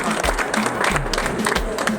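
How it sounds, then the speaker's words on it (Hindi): Hearty audience applause at a motivational seminar, dense clapping from a crowd with some thumping low knocks mixed in, steady and fairly loud across two seconds, a voice faintly audible beneath. "मैं गुरुदेव के लिए भी एक बार जोरदार तालियां और प्रणाम।"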